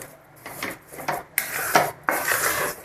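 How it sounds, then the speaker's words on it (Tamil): A spoon stirs sugar, almond paste and ghee together in a pan for badam burfi, making close, rhythmic scraping strokes, about six in a row, each a short gritty swish. "அந்த சுகரும் இந்த பாதாம் பேஸ்ட்டும் நல்லா மிக்ஸ் ஆகிற மாதிரி நல்லா கலந்து விட்டுடலாம்"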